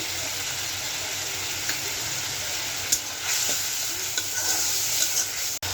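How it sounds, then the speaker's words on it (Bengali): Spice paste sautéing and being stirred in a pan while making a spicy jackfruit and potato curry, with a steady close sizzle and occasional spoon scrapes and knocks against the pan. "মশলাটা কষা দিয়েছি, লবণটা দিয়ে দেবো।"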